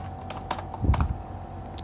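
Rapid typing on a computer keyboard, a short burst of close keystrokes with a heavier thump midway, fairly loud over a low steady hum.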